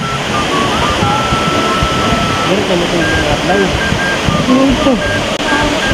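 A waterfall roars as a constant, loud broadband rush close by, while a person talks excitedly over it.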